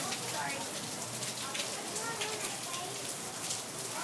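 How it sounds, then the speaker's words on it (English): Steady rain falls outdoors at an animal park in Orlando where giraffes are out in the wet, a dense even hiss of drops on surfaces lasting throughout. "They said, get me out of this rain."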